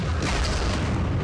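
A heavy, continuous booming blast from an RPG explosion in the Vietnam war game Campaign Series Vietnam, loud and close, filling the whole moment with broad rumbling noise.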